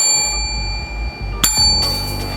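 A bright notification bell dings once, sharp and loud, then rings on briefly, set against a steady background bed of sustained tones without speech.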